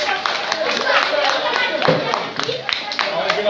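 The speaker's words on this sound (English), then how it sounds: "Give yourselves a round of applause." Audience clapping at an outdoor Halloween zoo event after a drumming group's set, steady and fairly close with scattered sharp claps and crowd noise mixed in for a few seconds.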